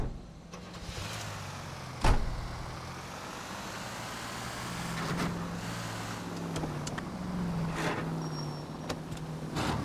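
A car driven in the video game L.A. Noire: a steady engine rumble and road noise held throughout, with a sharp thump near the start and soft mechanical clicks and rattles.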